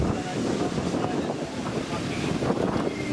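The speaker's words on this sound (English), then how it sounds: "Oh, here comes the wind." Strong wind gusts blowing dust in Las Vegas roar continuously across the microphone, a dense buffeting rush with a faint voice underneath.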